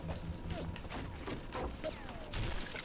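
Turret gunfire in the video game Bioshock Remastered: a run of sharp shots and impacts under game noise, with a burst near the end, while a player's voice talks over it.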